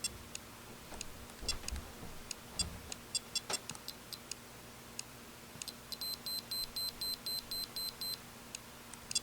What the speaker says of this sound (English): Just get like a beeping sound